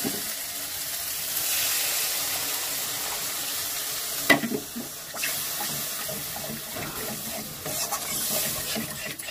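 Hissing sizzle as water hits hot spices in a pan for katla fish head muri ghonto, a steady rushing splatter with a couple of sharp clinks; close, continuous, no talking.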